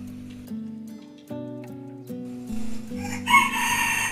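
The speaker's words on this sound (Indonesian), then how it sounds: "itu suara ayam ya" A rooster crows in a long, clear, harmonic call that rises and holds, fairly close and loud, with no voices over it.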